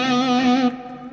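An electric guitar played with an Ultex pick rings out through an amp with distortion, a single sustained, chimey note held for about half a second before fading under a soft tail.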